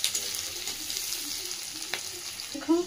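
Onions frying with spices in a pan for a potato curry, a soft steady sizzle with small crackles and a brief clink near the end.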